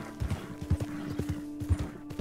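Horse hooves in the Red Dead video game, a rhythmic clip-clop of galloping steps over a low steady hum, moderately close and uneven in loudness.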